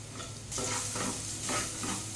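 Ginger, garlic, green chili and Maggi bhuna masala fry in hot oil with a close, steady sizzle, swelling in two or three bursts as a spoon stirs the mixture around the pan.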